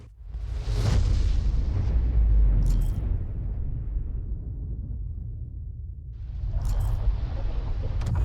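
A 105mm tank round strikes in a tank battle game: a deep, heavy explosion lands near the start, followed by a long rolling rumble, with a second burst of debris crackle toward the end.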